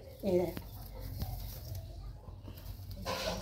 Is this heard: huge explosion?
no